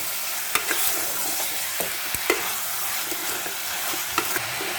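Turmeric and salt are stirred into a pan with a steady sizzle, broken by a few sharp scrapes and taps of the spoon against the metal.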